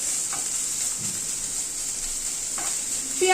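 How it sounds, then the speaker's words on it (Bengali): Garlic paste, made from 8-10 cloves, frying in a pan with onion, a steady, close sizzle with a couple of soft stirring scrapes, rising slightly at the end. "রসুনটাকে দিয়ে একটু ভেজে নিচ্ছি।"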